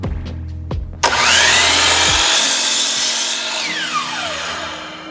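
A power saw bites into a clamped piece of wood for a handmade wooden knife, a loud steady cutting whine lasting several seconds after a few light taps, then trailing off.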